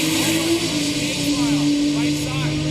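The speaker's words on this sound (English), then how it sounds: "this has got a Ford Barra engine in it" A Barra-powered Mustang drag car with a Ford Barra engine roars past on the strip, a loud steady engine drone with a sustained tonal whine, heard under a commentator's voice.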